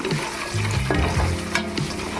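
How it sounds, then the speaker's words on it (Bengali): Peanuts and green peas sizzle and fry in a pan with ginger and chopped green chilli, a steady close crackle with soft stirring scrapes and no voices. "দিয়ে নাড়িয়ে দিয়ে দেবো বাদাম, দেবো মটরশুঁটি। এখন একটু ভেজে নেব।"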